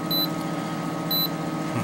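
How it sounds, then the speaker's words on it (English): An engine control module on an industrial Cummins QSM11 diesel being marinized sounds a low-coolant alarm: two short, high electronic beeps about a second apart over a steady low hum. "our display is telling us that we have an alarm"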